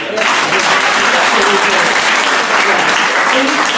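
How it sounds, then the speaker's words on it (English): An audience at a business launch event breaks into loud, sustained applause, dense clapping filling the room without pause for several seconds. "And you can clap for that."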